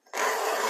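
A Stihl 2-in-1 sharpener rasps across a chainsaw chain held in a vise, giving one short, loud, close filing stroke.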